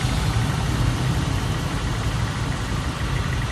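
A 2016 Honda Vario 150 cc scooter idles close by with a noise from its CVT, a steady, loud, even engine drone and rumble that holds for the whole stretch with no talking.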